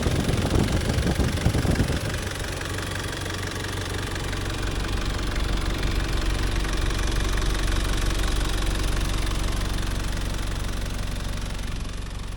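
Nissan Terrano's rare QD32 ETI diesel engine idling with a steady, low rumbling drone and slight knock, after a brief louder rev or handling noise at the start, with no talking.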